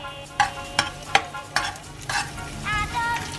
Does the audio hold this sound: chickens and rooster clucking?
no